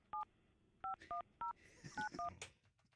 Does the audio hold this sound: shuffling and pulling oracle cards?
no